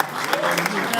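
An audience briefly applauds a female boxing champion, a European vice-champion, with a short burst of clapping partly covered by a voice talking over it.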